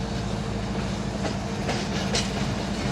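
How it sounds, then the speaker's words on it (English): A slow-moving train rolls past below a hovering drone, its steady wheel rumble and rhythmic clickety-clack holding at constant loudness, with faint rotor hum mixed in and no talking. "That's a slow moving train."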